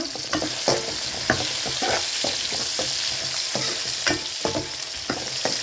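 Drumstick pieces are being stirred into a frying dried fish curry, with repeated rhythmic scraping strokes of a spoon over a continuous close sizzle and no talking.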